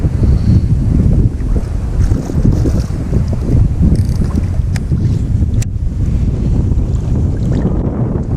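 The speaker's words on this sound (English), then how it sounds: "We got a lot of wind." Strong wind buffets the microphone on a fishing boat at a clear-water quarry during bass fishing, a loud continuous roar with gusty low rumble and occasional small knocks, no talking.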